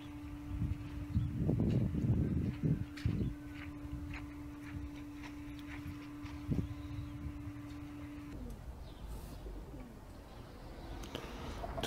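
Pigeon cooing in a low, repeated rhythm, several soft coos clustered early and then spaced out, moderately close, with a steady hum and faint ticking in the background.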